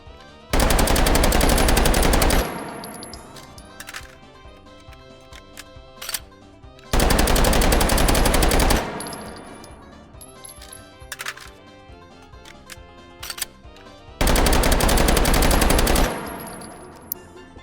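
Three long bursts of full-auto gunfire from a firearm in the VR shooting game H3VR, each loud and sustained for about two seconds, separated by quieter clicks, clatter of handling and metallic pings.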